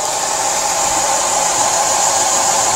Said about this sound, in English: You can accelerate this process with a hairdryer